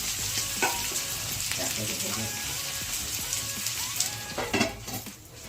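Pui metuli, Malabar spinach stems, frying in a covered pan with a constant dense sizzle and occasional stirring clinks, close and fairly loud throughout.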